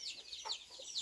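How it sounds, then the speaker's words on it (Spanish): A hen gives a few faint, quick clucks from a short distance on a farm, with quiet background and no talk. "Y aquí, una gallina."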